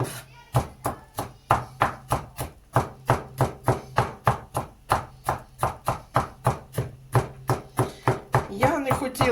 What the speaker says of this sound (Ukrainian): А тепер беремо і отако його січем, січем січемо. На мелкі такі кусочечки.